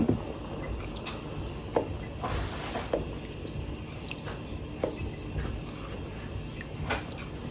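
Five cups of washed rice being added to a pot for Jamaican gungo peas and rice: soft wet squishing and pattering of grains, with a few light clicks, fairly faint and close.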